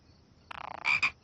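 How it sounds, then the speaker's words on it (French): A frog croaks up close: a quick rattling run of short pulses followed by two louder, drawn-out croaks, alone against near silence. "Regardez, une grenouille."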